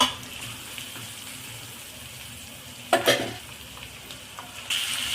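Onion, garlic and curry leaves sauté in a pan for a brinjal potato fry, a steady low sizzle running throughout, broken near the middle by a brief louder clatter of stirring and a bright hiss toward the end.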